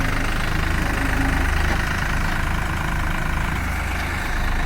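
Swaraj 744XT and New Holland 3600 tractors run their diesel engines in a tractor pulling match, a loud, rough, steady clatter that continues throughout with no voices.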